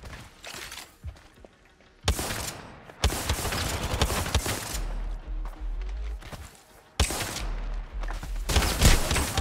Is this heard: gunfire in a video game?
yes